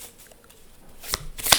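A quick riffle of tarot cards being shuffled, two brisk papery bursts near the end of a short, otherwise quiet stretch.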